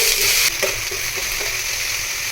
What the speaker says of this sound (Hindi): इसको हल्की सी भुनाई कर लेते हैं।